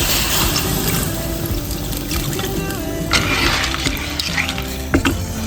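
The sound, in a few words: adding water to stir-fried clams in a pan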